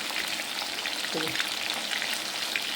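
Marinated chicken for chicken chilli crisping in hot oil in a pan, a continuous close, even sizzle with faint crackles and no talking.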